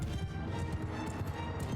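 Cavalry horses galloping across a battlefield in Mount & Blade II: Bannerlord, a dense, continuous rumble of hoofbeats at low level with no clear pauses.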